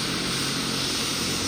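Helicopter carrying Kangana at Jogindernagar in Himachal Pradesh, its engine and rotor giving a loud, continuous whirring roar that stays constant and close.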